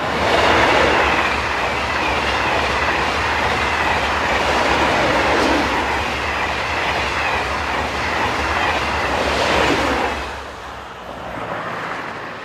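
A pair of coupled TGV high-speed sets on the 0644 service from Marseille rushes past on the rails in a steady loud roar with a rhythmic wheel clatter, then eases off slightly near the end.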